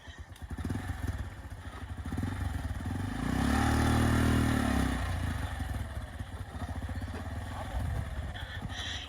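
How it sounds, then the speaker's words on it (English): Tuk-tuk engine labouring up a hill, a close, rattling mid-pitched putter that swells and strains for several seconds, then drops back to a rough idle with clatter and scraping. "We're walking up the hill, and the tuk-tuk's not able to make it up."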